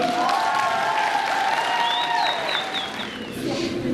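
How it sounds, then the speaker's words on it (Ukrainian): Newly initiated students at a university induction ceremony applaud, a dense continuous roar of clapping from a crowd, with shouting and cheering voices rising above it and fading slightly near the end. "Аплодисменты, Аплодисменты себе!"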